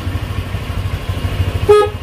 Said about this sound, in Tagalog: At saka yung busina niya medyo paos oh.